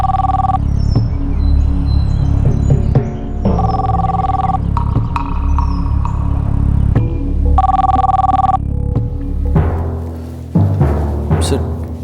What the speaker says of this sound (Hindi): सर, पुलिस हेडक्वार्टर से आपके लिए फ़ोन है।